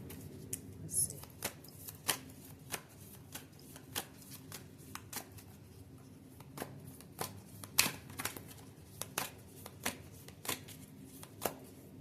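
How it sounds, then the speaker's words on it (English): Oracle cards being shuffled by hand, a run of crisp, close riffling snaps and soft slaps repeating at an uneven rhythm in a quiet room. "I'm going to pull one of my Oshun cards as well"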